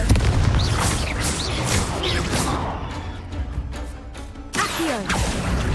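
Explosive spell blasts in Hogwarts Legacy combat, several loud booming bursts in quick succession with crackling debris, a brief lull, then another heavy blast near the end.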